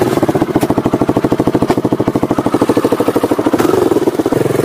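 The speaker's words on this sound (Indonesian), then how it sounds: "Menggunakan motor inventaris dari dinas untuk keliling atau jaga hutan mangrove" A government-issue motorcycle used to patrol mangrove forest runs close and loud, its engine chugging in a fast, even rhythm before a slight rise in revs.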